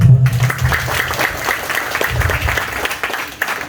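Audience applause at a Maulid religious lecture gathering in Dawuan, Cikampek, a steady wash of clapping lasting several seconds with a voice briefly over the start.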